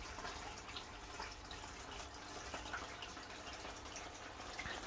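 A small waterfall runs into a garden pond in a greenhouse, producing a faint, steady trickle and splash with occasional soft drips, continuous and low in level throughout.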